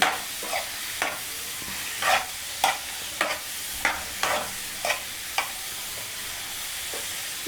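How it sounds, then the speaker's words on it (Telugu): Bottle gourd pieces are tipped into a pan and stirred for a yogurt chutney, giving a run of short, crisp scraping and sizzling bursts at an uneven pace, close and moderately loud, with no talking. "ఇందులోనే పొట్లకాయ ముక్కలన్నీ వేసేద్దామండి"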